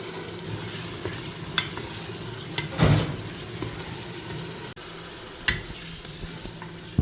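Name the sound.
beef shank cubes frying with onions in a pot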